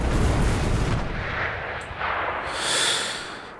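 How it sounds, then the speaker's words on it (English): Airstrike explosions in the World War II shooter game Enlisted: a heavy, booming blast rumbles up front and slowly fades, followed by quieter hissing debris and distant noise, with no talking. "Airstrike killed me."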